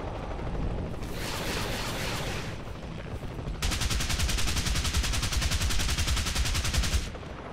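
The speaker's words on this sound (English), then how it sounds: "That's some heavy anti-aircraft fire coming from down there." Heavy anti-aircraft gunfire from War Thunder helicopter combat: a dense crackling burst of shots, a brief lull, then a loud sustained rapid-fire stream lasting several seconds, with no voices.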